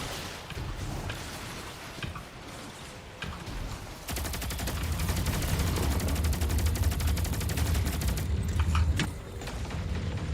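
Gunfire in Destiny 2: scattered shots at first, then a long sustained rapid automatic burst roaring for about five seconds before easing into lighter continued firing.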